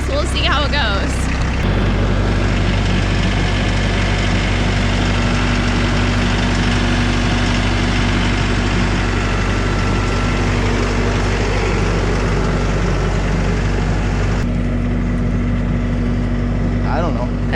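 A John Deere 444 tractor's diesel engine runs hard and steady while pulling out a stuck tractor, a loud continuous low drone with a brief change near the start and end.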